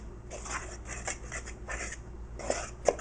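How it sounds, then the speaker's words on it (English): Fried chicken ingredients being mixed together in a bowl, with soft scraping and rubbing strokes against the bowl, a few brief clinks near the end, close and fairly quiet, with no talking. "Mix everything together."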